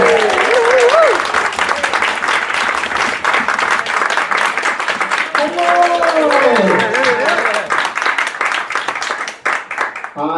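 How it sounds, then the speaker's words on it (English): A live comedy debate audience applauds loudly and steadily, dense clapping with scattered cheers and whoops, close and continuous before tapering off at the end. "put your hands together, start clapping and cheering"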